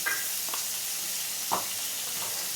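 Ginger paste and turmeric fry in a pan over a constant hiss of sizzling oil, broken by a couple of faint scrapes from a spatula, close and moderately loud with no one talking.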